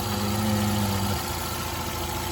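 A 1995 Dodge Caravan's 2.5 liter four-cylinder engine, an oil-leaking beater, idles with a steady low hum and throb, its deeper tone fading about halfway through, leaving a softer running drone.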